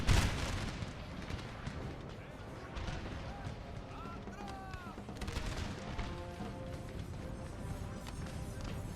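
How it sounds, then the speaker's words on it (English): Musket volleys crackling across a Napoleon: Total War battlefield, rolling bursts of gunfire at a distance under a continuous rumble of battle noise, with scattered shouts mixed in. "Now we just have to wait for the muskets to do their work"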